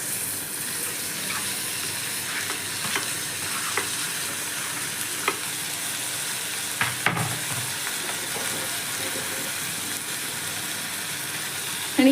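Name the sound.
onion frying in a pan for Kashmiri dum aloo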